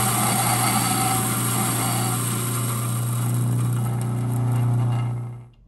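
A coffee grinder runs on whole beans in a Maryland coffee shop, giving a loud, steady motor whine with a gritty crunch that holds for several seconds, then spins down and stops at the end.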